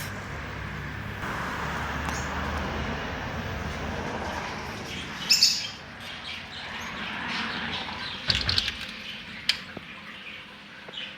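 Birds chirp in a flower shop that also sells fish and aquariums, with scattered light tweets over a steady room hum and a few brief louder sounds.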